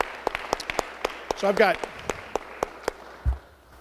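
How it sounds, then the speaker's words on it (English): An audience at a city neighborhood meeting gives scattered, sparse clapping for the city's officers, irregular claps spread across the whole stretch, while a person talks over it. "Let's give them a big round of applause."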